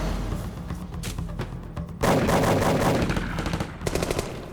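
Heavy gunfire with live rounds in a military training ambush, sustained rapid bursts of automatic fire with loud cracks, intensifying midway and continuing densely at close range.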